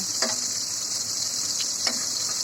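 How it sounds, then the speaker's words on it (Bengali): Spice-coated pointed gourd (potol) quarters and eggplant pieces frying in oil over a medium flame, a steady, close hiss of sizzling with a couple of soft taps from turning the pieces. "মিডিয়াম ফ্লেমে খুব ভালো করে এখন পটলগুলো একদিকে ভেজে নিচ্ছি"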